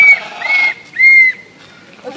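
A person whistles at a zoo: two short, steady, high whistled notes close by, separated by a brief pause, over light background noise.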